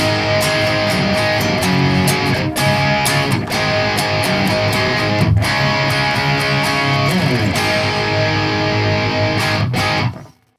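A big electric guitar chord played through pedals into a Zilla 4x12 cabinet with no amp, loud, thick and distorted, sustaining for about ten seconds with a few re-struck accents before cutting off abruptly.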